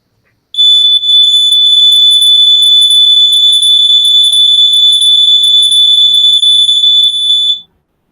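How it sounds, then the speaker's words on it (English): A face-detection alarm sounds as a single loud, continuous high-pitched electronic tone lasting about seven seconds, alone against silence. "whenever the face is not detected, even then it beeps an alarm."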